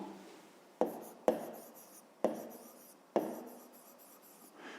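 Pen strokes on paper, as a fifth-grade math solution is written out, come as four or five short, sharp scratching bursts, each fading quickly, with quiet pauses between them and no talking.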